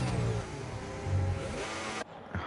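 Racing car engine in an F1 video game, glitching: a loud, continuous synthetic whine with stepping pitch that abruptly cuts out and restarts near the end.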